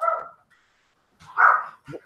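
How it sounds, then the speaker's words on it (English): Several dogs bark close by in short bursts, a cluster at the start, a louder volley after a pause and a final single bark, heard alone with no talk. "my dogs are barking"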